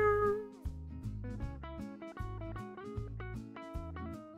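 A pet cat meows repeatedly in short, clear calls over a steady rhythmic game music track, fairly close and moderately loud, with no talking.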